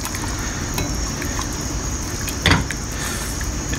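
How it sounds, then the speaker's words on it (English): Strawberry glaze simmering in a pan over medium-high heat, a steady low sizzle and bubble throughout with a single brief scrape of a whisk partway through. "as it starts to bubble and simmer, you can just help it along with a little whisk"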